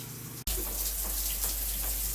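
A shower sprays in a steady, hissing rush of water during a toy poodle's bath, starting abruptly after a brief quiet moment and continuing close and even.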